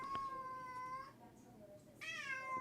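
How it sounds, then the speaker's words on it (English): Loki the cat gives a long, drawn-out meow that wavers as it carries on, then ends with a rising cry, close and fairly quiet indoors. "Why was that meow so long?"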